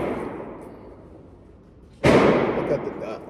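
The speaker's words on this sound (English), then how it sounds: "I'm shooting one of my friend's reloads right now too." A single sharp report from a Staccato XC pistol firing a friend's reloaded ammunition at a range, a loud sudden blast with a decaying tail that cuts through low background murmur.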